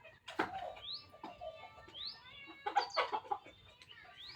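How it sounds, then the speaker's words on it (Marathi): Chickens clucking and squawking after rain on a farm, with repeated close calls and short rising squawks in irregular bursts, no talk. "पाऊस पडल्यामुळे कोंबड्यांना पण लई आता मजा वाटायला लागली"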